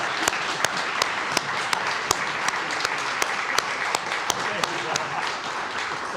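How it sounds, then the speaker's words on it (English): Steady applause at a district awards dinner, a dense wash of clapping with several sharp, loud individual claps standing out close by, and some voices underneath. "Okay, one more round of applause"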